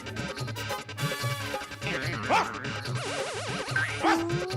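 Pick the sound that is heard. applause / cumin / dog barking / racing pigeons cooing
dog barking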